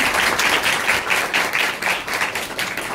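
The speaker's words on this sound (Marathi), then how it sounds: "जोरात टाळ्या वाजवलं तर बरं होईल" Loud, sustained clapping from an audience at a Marathi gratitude ceremony with a Khel Paithanicha game event, dense and steady throughout with no pause.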